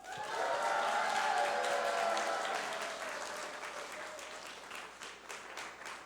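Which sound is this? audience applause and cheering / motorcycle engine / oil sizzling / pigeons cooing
audience applause and cheering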